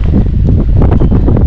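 Strong, gusty wind roars and buffets the microphone throughout, with low rumbling blasts and no voices.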